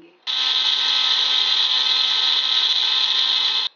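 An electric kitchen grinder whirs through flaxseed chutney ingredients with cumin, garlic, dry mango powder and chili powder, a loud high steady motor whine starting abruptly and stopping after about three and a half seconds.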